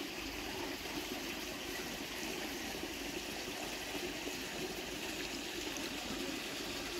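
Irrigation water flows steadily into a village paddy field, a constant close rushing and trickling wash with no pauses or voices.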